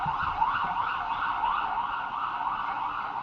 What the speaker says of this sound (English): It gets real loud here when the sirens start coming around.